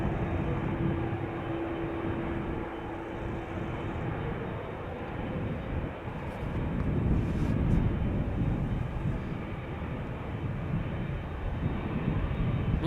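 A Play Airbus A320neo departs Schiphol for Reykjavik, heard as a steady distant jet rumble of moderate loudness that swells slightly partway through, with a faint tonal hum early on.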